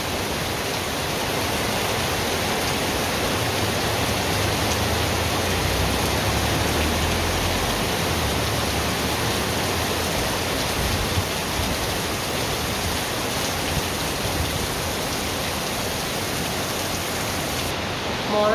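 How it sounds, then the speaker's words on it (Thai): Steady, heavy monsoon rain pours down in a dense, unbroken hiss, with a faint voice briefly audible underneath early on. "ได้ยินเสียงฝนไหมคะ ช่วงนี้มรสุมเข้านะคะ ฝนตก หนักมาก"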